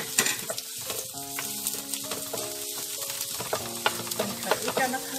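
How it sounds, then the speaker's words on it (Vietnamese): Minced garlic sizzles loudly in hot oil in a pan while being stir-fried for choy sum, a steady close frying hiss broken by stirring scrapes, with soft music playing underneath. "Mình cho cái tỏi băm này vào nha"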